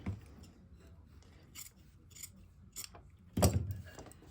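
Scissors cutting and trimming material, a handful of short crisp snips and rustles spaced irregularly, close and fairly quiet, the last one louder.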